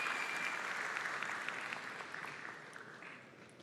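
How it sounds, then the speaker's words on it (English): An audience at the Take Off Istanbul international startup summit applauds, a dense wash of clapping that stays full at first and then gradually fades. "Can we get a big applause for the team who produced it?"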